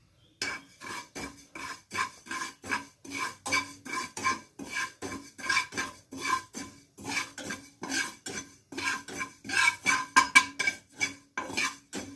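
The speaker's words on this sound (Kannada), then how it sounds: "1 ಸ್ಪೂನ್ ಎಳ್ಳನ್ನು ಹುರ್ಕೋತಾ ಇದ್ದೀನಿ" A spoonful of sesame seeds dry-roasting in a pan while a spoon or spatula scrapes and stirs them in a steady, quick rhythm of close, gritty strokes, continuous for the whole stretch with no talking.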